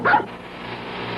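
A debarked beagle lets out one short, hoarse, muffled bark at the start, followed by a low steady background hum.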